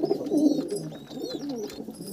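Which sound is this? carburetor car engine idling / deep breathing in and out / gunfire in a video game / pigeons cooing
pigeons cooing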